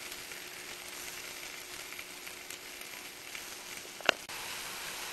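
Mushrooms, sausage, corn and asparagus sizzle on an outdoor grill, a steady even hiss throughout with one brief sharp click near the end, no talk.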